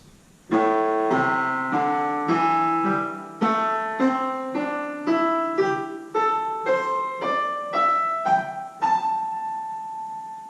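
Piano notes played one at a time in a slow, steady climb up a scale, each ringing briefly, the final note held; close and clear with no voices.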